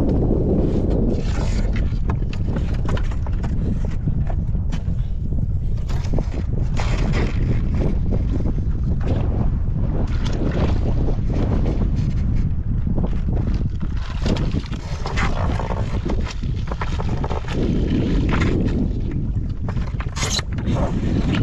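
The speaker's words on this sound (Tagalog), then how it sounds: "malakas yung hangin ngayon." Strong wind at sea on a small fishing boat, a constant loud roar and buffeting across the microphone with a low rumble of engine and water, steady throughout.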